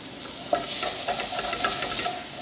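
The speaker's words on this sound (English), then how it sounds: "we'll just let these spices fry for a few seconds" Cumin, paprika, oregano and chili fry in a very hot pan, giving a loud, steady sizzle close up, with a few stirring scrapes and no talking.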